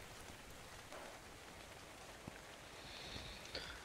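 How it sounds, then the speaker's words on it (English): Rain falls steadily during a dark rainstorm in the video game ARK: Survival Evolved, a soft, even patter with a faint rise in hiss near the end and no talking. "Because it's a rainstorm as well."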